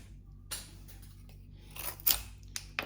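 A Spyderco Lil Native folding knife bites into soft pine wood along the grain, making a few sharp crisp cuts and snips close up with quiet pauses between them.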